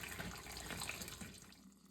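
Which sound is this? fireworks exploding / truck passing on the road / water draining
water draining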